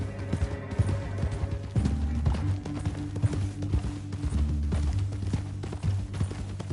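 Horse hooves clip-clop at a steady walking rhythm over hard ground in a canyon, with a low sustained musical drone running underneath.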